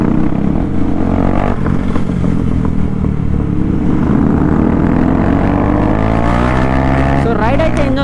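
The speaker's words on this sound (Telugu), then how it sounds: "సో రైడ్ అయితే ఎంజాయ్ చేయండి, నేను కొంచెం సేపు ఏం మాట్లాడినా, ఎందుకంటే మీ అందరికీ ఎగ్జాస్ట్ సౌండ్ అవన్నీ నచ్చుతాయి కదా" A modified KTM Duke motorcycle's exhaust while riding: a loud, continuous engine drone that holds steady and then climbs in pitch toward the end, with no talking over it.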